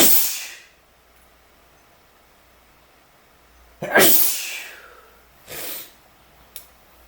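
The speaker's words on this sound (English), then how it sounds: "I gotta sneeze again." A single loud sneeze, preceded by a sharp breathy burst at the start, followed by a couple of shorter snorting exhales fading out.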